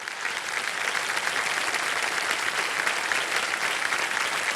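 A studio audience on a televised quiz show breaks into applause, a dense, steady clatter of many hands clapping that holds loud and even from start to finish.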